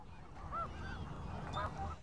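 Geese honk a few times, distinct nasal calls at moderate distance over a faint background rumble, with no talking.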